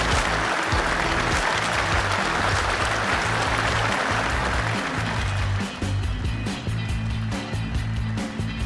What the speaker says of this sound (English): A loud cheer, ladies and gentlemen,